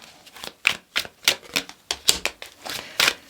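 Tarot cards being shuffled, a run of about a dozen crisp riffling bursts in a quick, uneven rhythm, close and clear with no talk.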